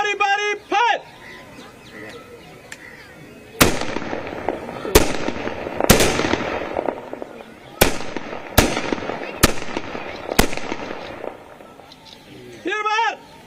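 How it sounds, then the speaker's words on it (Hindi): Ceremonial rifle volley at a state funeral salute for a minister, seven sharp loud shots fired one by one at irregular intervals outdoors, with shouted commands before and after and birds audible in the background. "दाहिने से बारी बारी फायर"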